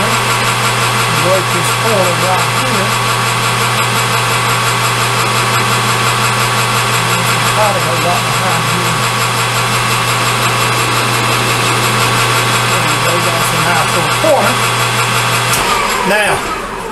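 A metal lathe runs steadily while turning a knockout screw, a loud constant motor hum and whine with faint tool chatter, ending with a brief clatter.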